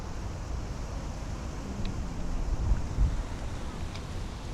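Outdoor wind gust buffeting a microphone while a drone flies over Sidcup, a suburban town in London, a steady low rumbling roar lasting throughout with slight swells.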